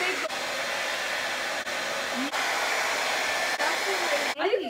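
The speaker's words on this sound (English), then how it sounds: "I brought our hair dryer." A hair dryer blows steadily close by while working on a gingerbread house, a continuous airy hiss with faint clicks and brief dips, ending with a short burst of voice near the end.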